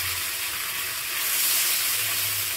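Methi dosa batter poured into a lightly oiled kadai sets off a broad, close hissing sizzle that swells partway through and stays loud and steady.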